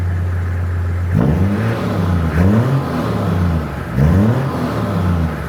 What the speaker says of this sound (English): Give it a rev, just see if the taco moves